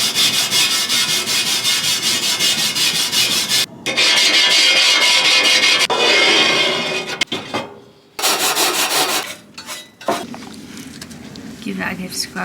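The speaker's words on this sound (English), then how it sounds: "give that a good scrub, Joe." A barbecue tray being scrubbed to degrease it outdoors, close rough brushing strokes in long runs with short breaks, a voice speaking in between.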